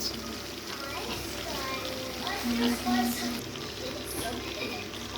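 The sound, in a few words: tomatoes and salt frying with chicken in pan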